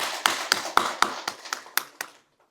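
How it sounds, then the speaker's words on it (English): Brief applause at a Kohima Press Club silver jubilee event, heard as about eight sharp, evenly spaced claps ringing out at a steady rhythm before stopping abruptly, fairly close and without talk. "A round of applause, please."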